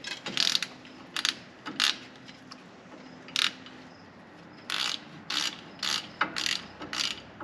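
Ratchet wrench clicking on a bolt during a wheel bearing job on a 1997 Ram 1500 4WD truck, heard as several separate bursts of quick ratcheting with short pauses between them, close and fairly faint.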